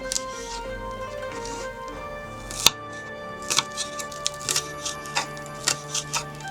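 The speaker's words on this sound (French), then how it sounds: "Une tige d'oignon frais coupée en petits bouts." Small pieces of spring onion stalk being cut with a knife on a board: a series of crisp, quick chops, sparse at first, then a faster, fairly regular run of taps near the end, close and clear over quiet background.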